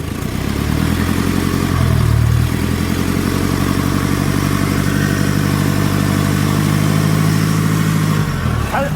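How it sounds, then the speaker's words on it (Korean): Steady mid-pitched engine idling and revving with a continuous metallic rattling clatter from a faulty seven-speed dual-clutch automatic transmission, close up, with brief changes as the throttle is pressed and released. "엔진 쪽이 아니라 미션 쪽에서 소리가 나요"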